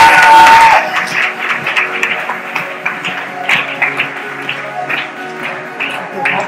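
Audience applause welcoming a guest speaker at an indoor seminar in Thailand, a crowd clapping steadily and moderately loud for several seconds after an opening tone, with no talk over it.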